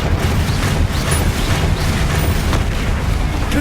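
Incendio fire spell cast in Hogwarts Legacy, a loud, sustained fiery roar and rumble with a few muffled thuds, filling the whole moment without any voices.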